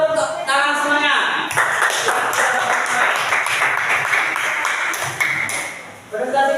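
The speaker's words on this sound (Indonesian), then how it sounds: "Yuk tepuk tangan semuanya." A group in a school classroom claps hands together for several seconds, a fairly loud, busy patter, with a voice and tonal sounds heard at the start and end.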